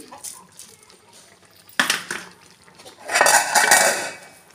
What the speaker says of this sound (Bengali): ঘি চিনি দিয়ে আবারও মিশিয়ে নেব।